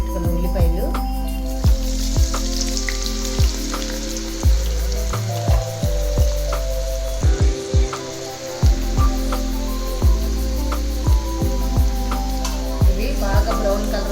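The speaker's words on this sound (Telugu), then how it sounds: "బాగా బ్రౌన్ కలర్ వచ్చే వరకు వేయించుకోవాలి కొబ్బరి నూనెలో" Thinly sliced onions with fenugreek seeds frying in coconut oil for homemade hair oil, a steady close sizzle with intermittent clinks of stirring against the pan.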